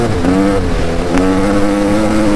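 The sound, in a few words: engine revving up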